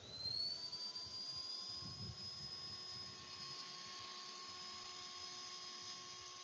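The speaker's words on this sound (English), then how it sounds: "While we switch on that, the motor starts rotating. Now I'm giving a throttle." A small robot's motor spinning up under applied throttle with its propellers removed, a steady high-pitched whine that holds level and close for several seconds.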